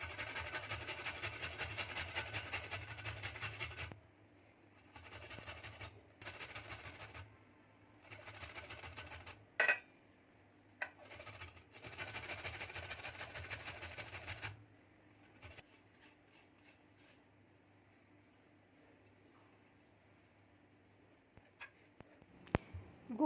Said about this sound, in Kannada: ಮೊದಲಿಗೆ ನಾವಿಲ್ಲಿ ಗೋಬಿನ ಒಂದು ಸ್ವಲ್ಪ ತುರ್ಕೊಳ್ಳೋಣ